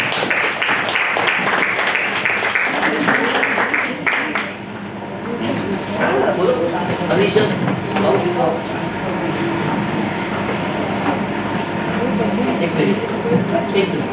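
Audience applause for a guest being welcomed at a literature event, a dense, sustained clapping wash that dips briefly midway, with voices mixed in.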